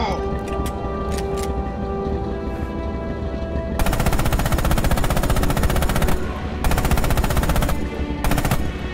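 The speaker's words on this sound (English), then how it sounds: "Use the hull MG and open fire on the targets." Hull machine gun on a tank firing in Red Orchestra 2, long sustained automatic bursts of rapid rhythmic shots over a steady engine rumble, stopping and restarting several times, with a voice speaking under it.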